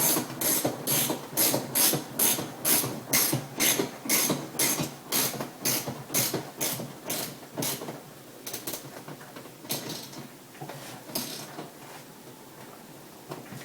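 Rapid ratchet clicks tightening a bolt on a 1965 Mustang seat during restoration, a steady run of loud close bursts for about eight seconds that then slows into a few sparser, softer strokes.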